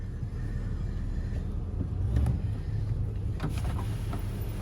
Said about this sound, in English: It's a windy day. We got the big rig kind of knocking the wind around, which we have a little bit more wind noise than usual